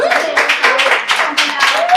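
Steady applause from a theater audience at a play reading, a dense rhythmic patter of many hands clapping, loud and close, with a voice speaking through it.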